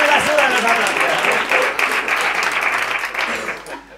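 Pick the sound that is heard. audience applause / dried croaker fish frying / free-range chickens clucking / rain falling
audience applause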